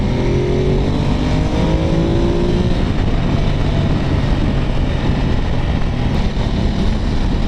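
Ducati Multistrada motorcycle ridden in sports mode, a loud continuous engine roar with rising harmonic tones early on, buried in heavy rushing wind noise that stays constant throughout.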